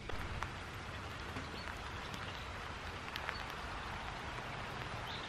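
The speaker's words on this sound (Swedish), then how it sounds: "ni såg ju hur mycket det regnar" Steady rain falling outdoors, a soft continuous hiss with scattered drips and patters, faint and even throughout.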